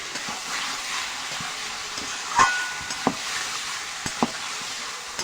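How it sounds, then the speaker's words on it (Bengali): Mutton sautés in a pan with turmeric, salt and spices, giving a soft, steady sizzle broken by a few sharper scrapes and clinks of stirring, moderately quiet and with no voices. "আমি এভাবে কষিয়ে নেব কিছুক্ষণ।"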